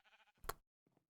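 A single sharp bleat from a white sheep in the Minecraft video game, loud and close, with softer game sounds just before and after it.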